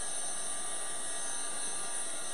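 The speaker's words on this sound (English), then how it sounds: "I'm using a heat gun. This is Crafter's Companion." A Crafter's Companion heat gun drying paint on a board, a steady electric whine and hum with a fan-like airy hiss, close and continuous throughout.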